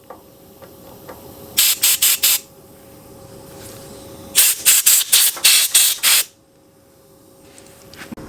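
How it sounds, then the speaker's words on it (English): Compressed air blasts in sharp hissing bursts through the jets of an old mini bike carburetor, first a short cluster of pulses, then a longer rapid series, loud and close with quiet gaps between. "just blow up in through these jets right here up front, in front of the carburetor"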